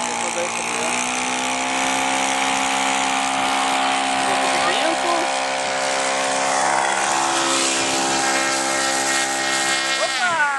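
A model airplane's propeller buzzes in a steady, loud, high-pitched whine as the plane lands on grass, pitch rising sharply at the very end.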